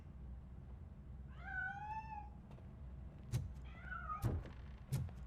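A cat in the video game RoboCop: Rogue City meows twice, each a drawn-out rising cry, with a few soft thuds in between over a low background rumble.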